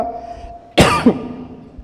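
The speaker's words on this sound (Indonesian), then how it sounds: "Bapak tidak usah khawatir kalau lihat saya batuk." A single short, sharp cough up close, breaking a quiet background.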